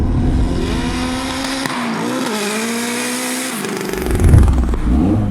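A 550bhp turbocharged Renault Clio engine roars at speed, then drops sharply as the driver lifts off the throttle, followed by loud popping and crackling from the exhaust, close and intense.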